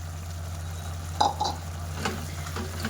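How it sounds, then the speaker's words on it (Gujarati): A spoon stirs chevda crumbs into tindora sabji in a pan on the stove, producing a few soft scraping strokes over a low steady hum, close and fairly quiet. "અને સરસ મિક્સ કરી લેવું"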